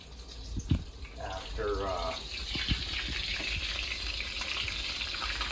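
Morel mushrooms sauté in a pan, a soft steady sizzle under a few clinks and a running tap, with brief speech nearby.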